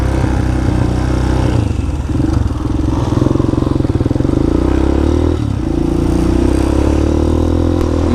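An old Honda NX125 motorcycle rides off on country back roads, its engine droning loud and steady throughout with a rising pitch as it accelerates away.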